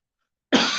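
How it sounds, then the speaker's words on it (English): After a moment of silence, a single sudden harsh cough bursts out close by and is cut off mid-sound. "I've got a cough, so I need to get rid of my cough."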